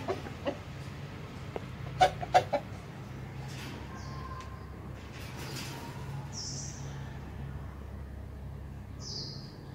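Dong Tao chickens at a Vietnamese farm cluck and call faintly over steady background noise, with a few sharp knocks early on and occasional distant chirps.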